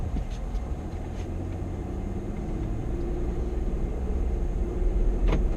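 A car driving down a residential street on a sunny day, with a steady low engine and road rumble close by, the rumble swelling slightly toward the end and no one talking.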